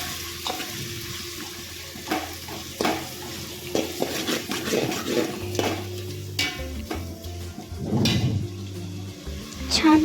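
Ginger, garlic and coconut paste is stirred in a pan for a village-style vegetable pulao, with scraping spoon strokes over a soft sizzle and a few clatters, moderately close and uneven in rhythm.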